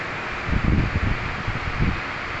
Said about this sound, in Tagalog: Sobrang hangin na, oh.